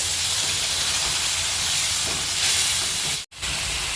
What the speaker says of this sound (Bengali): মশলাটাকে আরো ভালো করে কষানোর জন্য মায়ের মধ্যে দিয়ে দিচ্ছে আরো কিছুটা পরিমাণে জল